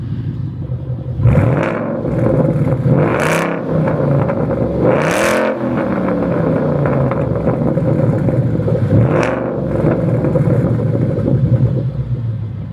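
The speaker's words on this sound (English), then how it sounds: "Hopefully you guys like those revs." A Coyote 5.0 Mustang V8 revs through an aftermarket exhaust, a loud, close, deep rumbling idle broken by several sharp throttle blips that rise and fall, with no talking.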